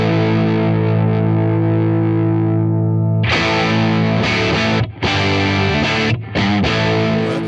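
An electric guitar played through a Tone King Imperial preamp pedal set for a British tone: a sustained distorted chord rings out and decays, then loud driven chords strike in quick succession with brief gaps between them.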